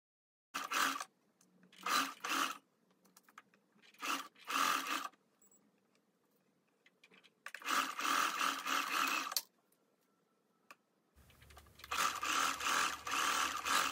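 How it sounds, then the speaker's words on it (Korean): Sewing machine stitching a blouse shoulder seam and button placket, running in several short bursts of rapid mechanical chatter with brief pauses, then longer steady runs, loud and close. "어깨 시접 부분과 앞 단추분 양쪽을 스티치 해줍니다"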